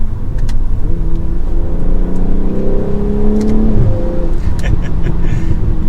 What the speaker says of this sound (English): we have, of course, a little bit more engine noise